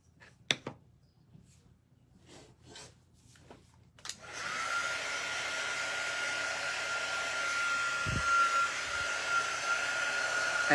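A hair dryer drying fabric pumpkins switches on after a few soft knocks and handling sounds, then runs as a steady, close, loud whir for the rest of the clip.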